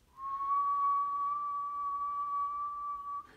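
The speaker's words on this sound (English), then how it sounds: "if I were to play a tone, like whistle" A single clean whistled tone, pure and steady, holds for about three seconds close up in a quiet room before cutting off.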